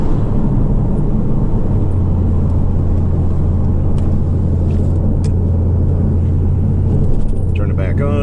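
A 2012 Chevrolet Caprice PPV drives along in normal shift mode, its engine giving a steady, loud low rumble heard from inside the cabin, with a voice speaking briefly near the end.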